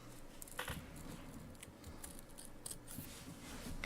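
Scissors trimming the fabric and foam edge of a sewn pillow wall hanging, faint close snips and rustling in a quiet room.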